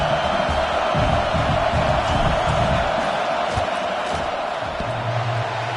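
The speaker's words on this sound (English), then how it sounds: "This crowd trying to do its part to get inside the kicker's head." A stadium crowd roars and yells steadily as a football field goal attempt is lined up, a dense, loud wash of voices with no single voice standing out.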